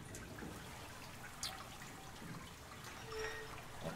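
Water leaks and drips in the video game Soma, a faint, soft trickle with a few scattered drip plinks over a low ambient hum, no talking.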